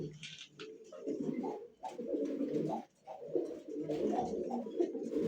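Pigeons of fancy and racing breeds coo repeatedly at close range in soft, throaty rolling phrases with brief pauses between them, with no talking over them.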